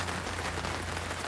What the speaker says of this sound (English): This is apparently what is known as a light rain in Port Hardy.